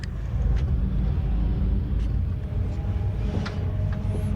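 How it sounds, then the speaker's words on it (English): A race car with a Kawasaki engine idles at a circuit, giving a steady loud low rumble with faint higher whines, continuous and close. "it was time to start up the car"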